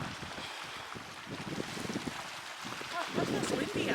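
Gusty wind at a hilltop lighthouse lookout over a bay, buffeting and roaring across the microphone in a steady rush with stronger surges, with faint voices under it.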